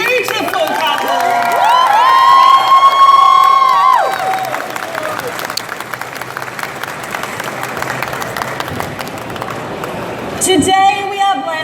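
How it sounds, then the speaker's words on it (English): A game crowd cheers and applauds at a wedding ritual in Cult of the Lamb, with loud whoops and whistles at first, then a steadier patter of clapping that continues to the end. "Another round of applause for our beautiful couple."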